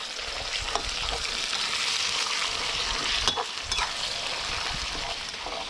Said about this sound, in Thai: เราก็จะผัดคลุกเคล้าให้เข้ากันจนเนื้อปลาร้าของเราสุกเลยนะครับเพื่อน